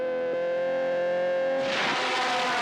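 Racing cars from the film Le Mans, such as a Porsche 917, Ferrari or Lola: a sustained, buzzing, tonal engine note that suddenly swells into a loud, harsh roar as a car passes close.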